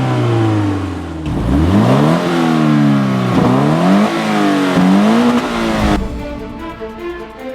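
A Scion FR-S sports car's 2-liter, horizontally opposed, 200-horsepower engine revs up and down repeatedly, rising and falling in pitch loudly and up close, then settles into a lower idle.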